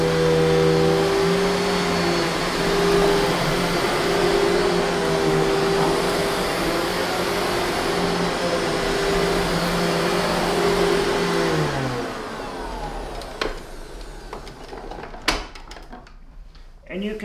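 A Sanitaire Force SC5745 bagless commercial upright vacuum runs loud and steady with a droning motor whine while it picks up pet hair, then shuts off and winds down, leaving handling clunks and knocks.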